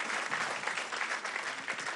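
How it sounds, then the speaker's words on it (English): An audience at an award ceremony applauds for the recipients, a dense, steady wash of clapping filling the whole stretch with no talk over it. "A round of applause for all Channel News Asia's Luminary Award"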